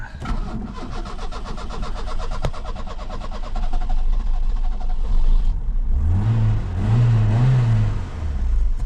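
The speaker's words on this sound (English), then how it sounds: "Let's hope it's going to rev more freely now." A Vauxhall Cavalier Diplomat 2.0i suffering severe power loss cranks with a rapid rhythmic starter whir, catches, and then revs up and down loudly in rising and falling swells close by.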